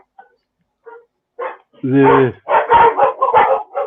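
A dog barks several times in close succession, loud and near, after a person briefly starts speaking; a low tonal yelp-like bark stands out among the sharper barks.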